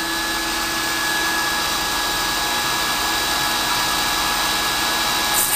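An induction heating machine powered on for hardening a steel part emits a loud, steady electrical whine and hum with a constant high tone, unbroken from start to finish and with no voices.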